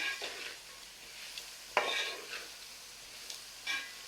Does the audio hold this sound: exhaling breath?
no